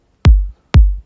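Two deep, punchy kick drum hits from an organic house track, each a sharp click dropping into a booming low thump, spaced about half a second apart, loud and alone.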